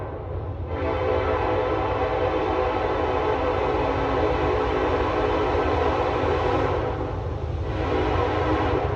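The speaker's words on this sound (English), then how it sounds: "We have to wait for the choo-choo train to go by." A train rolls past close by, its loud horn blaring in long sustained blasts over the heavy rumble of the cars, with a brief break between the final two honks.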